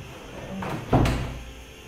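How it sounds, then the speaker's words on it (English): A door swings shut in a home kitchen where fish is being cooked, a single firm thud with a short rattle rising over low room noise. "Close this door for me."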